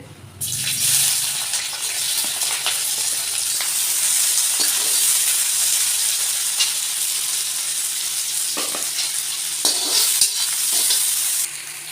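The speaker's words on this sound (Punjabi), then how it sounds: "ਕੜਾਈ ਵਿੱਚ ਆਪਾਂ ਸਰੋਂ ਦਾ ਤੇਲ ਗਰਮ ਕਰ ਲਿਆ ਹੈ" Sliced onions frying in hot mustard oil in a kadai, a loud continuous hiss and sizzle close by, with brief scraping bursts of stirring near the end.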